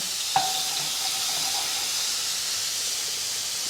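Garlic sizzling steadily in a hot pan over medium-high heat, with a brief utensil knock near the start and a continuous frying hiss throughout, no voices.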